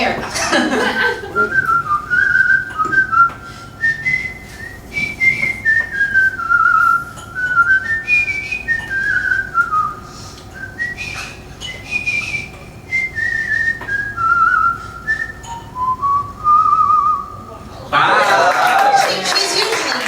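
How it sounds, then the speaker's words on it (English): Close, bright whistling of a self-composed melody in a live venue, rising and falling in phrases with short breaths between, ending in a burst of audience applause and laughter. "I just kind of whistle and whistle and whistle."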